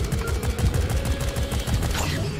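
Rapid repeated gunfire from a massive gun in the co-op video game Deep Rock Galactic, a dense rhythmic stream of heavy shots, loud and close, with a brief whooshing sweep near the end.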